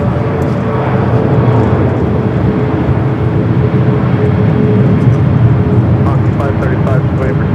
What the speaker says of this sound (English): American 777 at 200 ER taking off there on the south side.